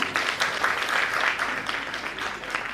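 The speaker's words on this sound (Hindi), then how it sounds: "कार्यक्रम तालियों से इस क्षण का स्वागत कीजिए।" An audience claps at a Patna college philosophy department event, a steady, moderately loud patter of many hands throughout with no pauses.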